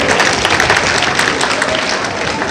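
Loud, dense applause from an audience at a school science, maths and environment exhibition, steady clapping throughout with no pauses.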